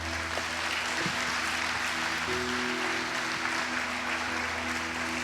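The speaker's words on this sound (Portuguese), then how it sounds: "Dê uma salva de palmas para o Senhor." Congregation clapping at a church service, an even, continuous patter of applause over a steady low hum from the room's sound system.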